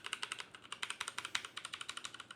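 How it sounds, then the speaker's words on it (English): Fast, steady typing on a computer keyboard plugged into a Mint Houz USB triple monitor dock, a close, even run of crisp key clicks with no voices. "This one's a keyboard, and I want to see how that works."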